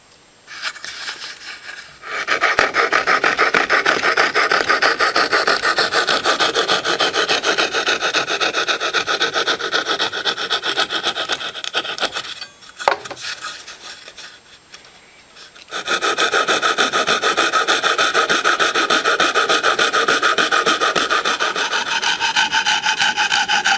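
A hand tool carves a small wooden snowman ornament clamped in a vise, making steady close rasping and scraping strokes that run almost continuously, broken by two brief pauses.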